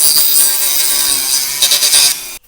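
Plastic interior trim being cut away in a car during a laser LED and radar detector install, a steady close rasping grind that runs continuously for a couple of seconds before cutting off abruptly.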